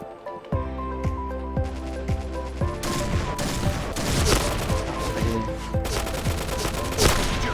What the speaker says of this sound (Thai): โอ๊ยใครยิงวะ